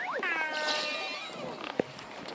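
A synthetic cat meow from the Furby Boom app sounds as a short, fairly quiet rising and falling cry, followed by a brief click, with nothing else around it.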